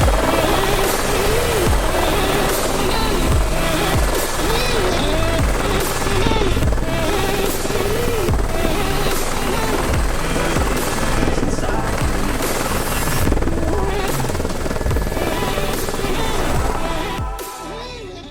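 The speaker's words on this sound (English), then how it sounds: "One of them mainly being flying in a helicopter." Steady, loud rotor thrum of a helicopter in flight over northern Sweden, a dense continuous drone with rhythmic blade chop that holds for the whole stretch before easing slightly at the end.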